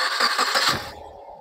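A 2015 Maruti Suzuki Swift Dzire VXI petrol car starts up close by: a short cranking burst quickly settles into a quiet, smooth idle.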